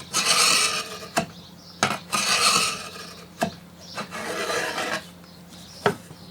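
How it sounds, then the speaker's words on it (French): A wood chisel scribes a cutting line across a slate roofing tile in a workshop, with about four scraping strokes, each ending in a sharp click, close and loud with pauses between them. "j'utilise, vous voyez, un ciseau à bois pour tracer sur cette ardoise l'endroit où vous allez faire la découpe."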